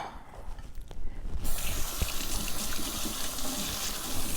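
Tap water runs steadily into a kitchen sink while hands are washed, a close, continuous splashing flow that grows brighter and fuller partway through as the stream strengthens.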